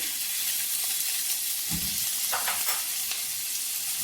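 Ginger-garlic paste frying in hot oil with browned fried onions, a steady close sizzle and hiss with a few scraping stirs of a spatula partway through; no talking.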